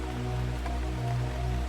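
Steady rain falls on a roof and surrounding trees, a dense, even hiss of drops with a low rumbling undertone, continuous and unbroken throughout with no voices.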